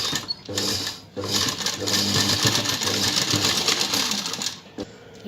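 A sewing machine stitches the neckline of a blouse while it is taken in to a smaller size. The rapid, close stitching pauses briefly near the start, then runs steadily for several seconds before stopping.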